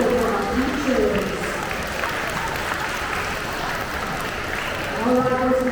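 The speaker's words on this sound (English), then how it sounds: "Can we give our teachers a big round of applause as well" Sustained applause from a school assembly crowd honoring teachers, a dense, even roar of many hands with voices mixed in throughout.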